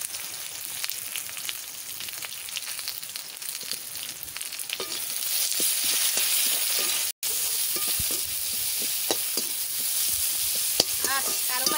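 Dry chillies, bay leaves, onion, curry leaves and cumin sizzle steadily in hot oil for the whole stretch, a dense continuous crackle with scattered sharper pops and occasional stirring scrapes, close and fairly loud.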